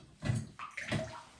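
Water splashes and gurgles briefly in a bathtub in a Big Bear cabin, two short rushing bursts close by.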